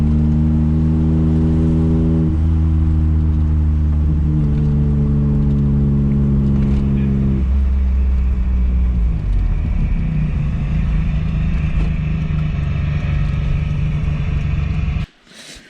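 A tuned Mustang convertible engine holds at half throttle, a loud steady rumble with a deep tonal hum that shifts pitch in stages as revs change, then cuts off abruptly at the end.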